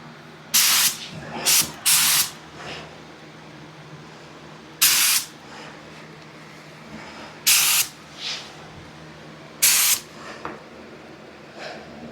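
Spray gun laying urethane primer on a Datsun 280Z, heard as six separate hissing bursts of about half a second to a second each, close and loud, with quiet gaps between them.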